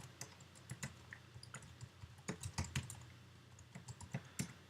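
Quiet, close tapping on a computer keyboard as a password is entered, an uneven run of soft keystrokes with a few brief pauses and no talking.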